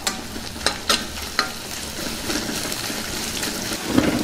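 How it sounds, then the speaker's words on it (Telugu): Ginger garlic paste stirred into spring onion and chana dal curry frying in a pan, a steady close sizzle with a few sharp scrapes of the spoon early on. "ఇందులో కొద్దిగా అల్లం వెల్లుల్లి ముద్దని వేసుకుందాం దీన్ని కూడా బాగా కలుపుకుందాం"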